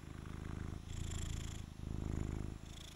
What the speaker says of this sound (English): And oh look, here's a cat. The cat has come to say hello.